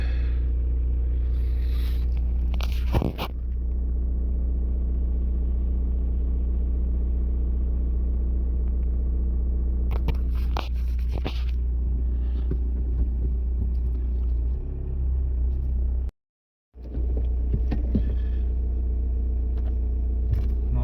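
A Volkswagen CC pulls forward onto a driveway, a steady low engine rumble and hum running throughout, with a couple of brief louder bursts and a short drop to near silence near the end.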